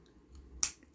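Scissors cut beading string during kandi cuff making, giving a single brief close snip in otherwise near-silence.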